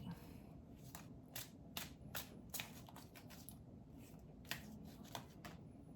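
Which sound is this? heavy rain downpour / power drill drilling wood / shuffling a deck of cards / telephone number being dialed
shuffling a deck of cards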